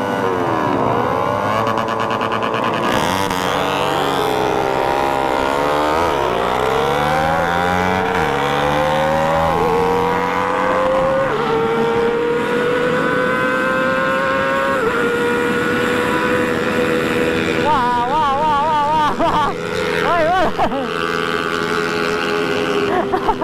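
A Jupiter MX300 motorcycle engine revving hard while racing, a loud, steady, close drone with pitch climbing through the gears and dropping at each shift, sustained throughout.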